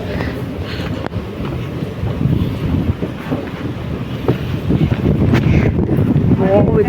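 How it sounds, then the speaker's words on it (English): Cold wind buffets a microphone outdoors on a walk toward Riga, a loud continuous rumbling roar with gusty swells and faint background noise. "It's so cold and windy."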